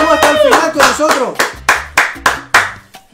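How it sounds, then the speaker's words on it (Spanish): A few people clapping in short bursts, close and uneven, mixed with a voice speaking, ending in several separate sharp claps. "pues un aplauso por ahí"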